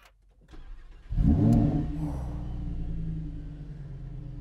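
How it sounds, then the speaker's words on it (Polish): A Lamborghini Huracan Spyder's ten-cylinder engine cranks after a brief quiet, catches with a loud flaring rev, then settles into a deep, rumbling idle close by. "Dziesięć cylindrów wita nas swoim odgłosem."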